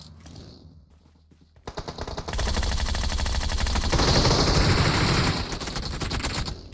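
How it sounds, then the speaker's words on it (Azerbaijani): Gunfire in the mobile battle royale game PUBG Mobile: after a quieter opening, rapid automatic bursts start and then hold as a loud, dense, sustained volley of shots with no voices. "Sayloz sağ tərəfdən vururlar"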